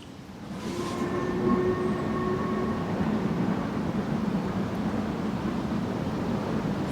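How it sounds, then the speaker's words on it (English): A steam train rumbles steadily in the distance across a valley, a broad continuous roar with a brief whistle-like tone early on, no voices present. "I can hear a steam train"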